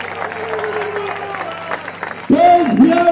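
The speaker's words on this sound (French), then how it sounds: "j'ai demandé qu'on puisse vraiment applaudir pour le président de la République" An audience applauds for the President of the Republic during a minister of state's address, a steady wash of clapping that gives way near the end to a louder tonal voice or music.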